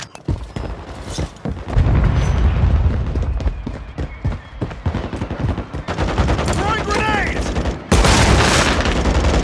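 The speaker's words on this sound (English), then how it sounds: "Throwing grenade!" Call of Duty combat with a grenade explosion amid steady close gunfire, two heavy booming blasts standing out over the rattle of shots, with game voices mixed in.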